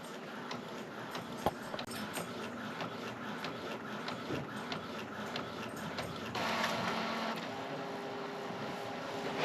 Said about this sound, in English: right now it's printing on the 4760